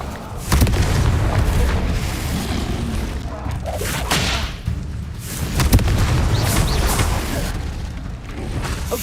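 Repeated Confringo fire-spell explosions from Hogwarts Legacy roll out as a loud, sustained barrage of deep booms with several sharper bursts, close and continuous, with no voices on top.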